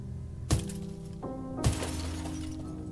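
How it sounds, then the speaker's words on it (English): Glass shattered with a hammer in a horror video game, two sharp smashing impacts about a second apart, each bursting into a bright spray of breaking shards over a low ambient drone. "maybe we could break the glass with the hammer"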